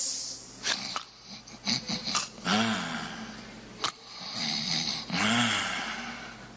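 A man imitates laboured breathing and shortness of breath with his voice, giving a few rasping, snore-like gasps and wheezy inhales spaced over several seconds, fairly close and moderately loud.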